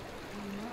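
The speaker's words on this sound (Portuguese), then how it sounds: "Aqui é uma cachoeira." Waterfall in the video game Far Cry 4, a brief, even rush of flowing water that stays steady at moderate level throughout.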